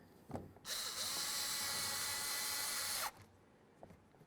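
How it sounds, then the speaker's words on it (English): A power driver whirs steadily for about two and a half seconds as it drives a screw into a Ford Ranger front door, with quiet handling noises before and after. "Now let's start screwing this in."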